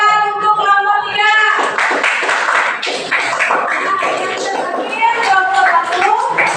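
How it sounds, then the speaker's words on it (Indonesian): A group in a classroom claps for a presenting team, a burst of scattered hand claps mixed with voices and a harmonic voice at the start, applause rising and thinning over several seconds. "Tepuk tangan untuk kelompok 3."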